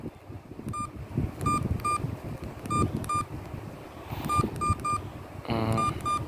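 A ringtone plays through a badly blown phone speaker, a string of short repeated beeping tones in clusters with a buzzy, distorted warble near the end over steady background noise.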